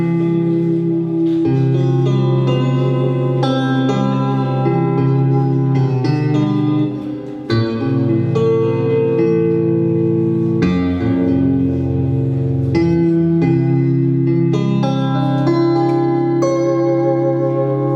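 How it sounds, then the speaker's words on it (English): A clean electric guitar stock sound from Logic Pro X, played on a LinnStrument, rings out in sustained chords and single notes with a bright, bell-like attack, loud and steady with no talking. "here's a clean electric guitar"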